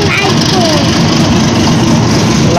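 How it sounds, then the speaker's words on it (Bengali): A train engine idles at Joydebpur Railway Station, a loud, continuous low rumble that holds steady throughout, with a murmur of voices around it. "ট্রেন এসে বসছে।"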